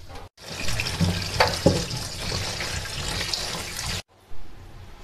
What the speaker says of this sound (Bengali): দিয়ে আবার কল চালিয়ে 3-4 বার করে এটাকে ধুয়ে নেব, যতক্ষণ না সাদা হয়ে যাচ্ছে জলটা